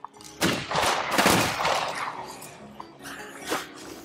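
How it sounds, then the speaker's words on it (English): Rick's gun firing in State of Decay 2, a rapid burst of several close, loud shots in quick succession followed by a couple of scattered later shots, with no talking. "Using Rick's gun."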